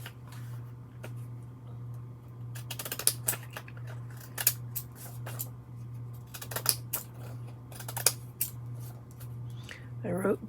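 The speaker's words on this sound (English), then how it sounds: "let me get a pair of scissors." Yellow scissors snip paper during a crafting session, giving scattered short crisp cuts that come in small bursts over a steady low hum, close and clear, with a voice briefly heard near the end.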